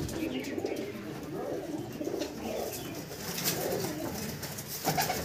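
Pigeons coo continuously inside a loft housing Madras breed birds, a dense low murmur of overlapping calls with occasional sharper chirps and a brief wing flutter near the end.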